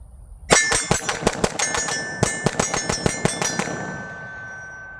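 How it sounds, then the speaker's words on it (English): A PSA Dagger pistol fired as a quick mag dump, about a dozen sharp, loud reports in rapid succession with ringing echoes between them, then a decaying tail, with no talking. "Let's get our mag dump done and see if we have any malfunctions."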